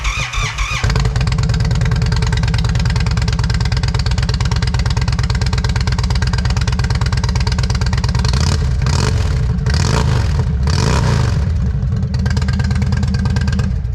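An Indian Chief motorcycle fitted with Rinehart slip-on mufflers rumbles loudly at close range, a steady deep idle with brief revs blipping in the second half.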